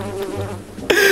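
Bee buzzing in a video game, a short close drone that ends in a brief sharp jump to a higher, brighter whine.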